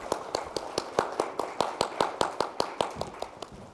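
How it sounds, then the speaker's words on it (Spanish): Steady rhythmic clapping from a church audience, a single group beating out an even tempo of sharp claps for a few seconds, with no talking. "Quiero que pedirles que agradezcamos con un aplauso"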